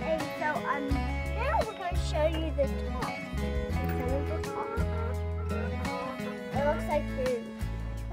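Chickens cluck and squawk around a mobile chicken coop outdoors, with busy overlapping calls near and far, and people talking throughout.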